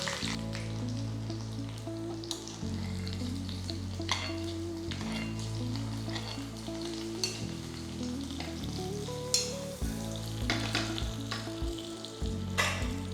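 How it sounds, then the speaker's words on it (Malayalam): Curry leaf tempering poured over Kerala beef mappas gravy, a steady loud sizzle and bubbling fry that carries on without a break, with a few stirring clinks and no talking. "കറിവേപ്പില, ഇത് നമുക്ക് ഗ്രേവിയുടെ മേലേക്ക് ഒഴിച്ച് അടച്ചു വെക്കാം."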